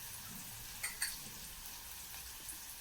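A pinch of asafoetida fries in hot oil for dalimbi rice, giving a faint, steady sizzle with a couple of soft clinks from stirring.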